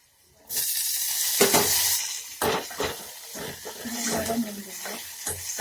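Tomatoes dropped into a hot pan of frying oil for a Konkan dal-and-vegetable katli, a loud broad sizzle that surges at the start and then continues under clinks, stirring and intermittent talk.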